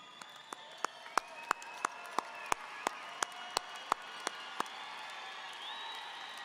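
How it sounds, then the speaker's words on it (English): Graduation audience at the West Mesa High School 2019 ceremony applauds in a wide hall, a steady crowd roar punctuated by a dozen sharp, regular claps near the microphone before it thins out. "I'd like for you to wave to them and give them a great round of applause"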